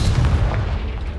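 A Confringo explosion spell goes off in Hogwarts Legacy, a loud low burst at the start that rumbles and decays over about a second.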